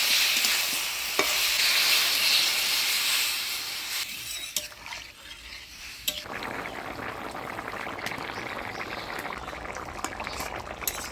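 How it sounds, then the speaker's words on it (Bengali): Raw pumpkin curry in a pot hisses and sizzles loudly, then quiets as water goes in, settling into a softer simmer with light stirring and occasional clinks of a utensil against the pot. "এবারে জল দিয়ে দেব।"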